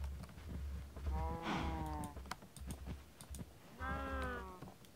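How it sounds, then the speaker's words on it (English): Cows mooing inside Minecraft on a floating island survival farm, two drawn-out moos with a short gap between them, close and fairly loud over faint background ambience. "Come here, cows."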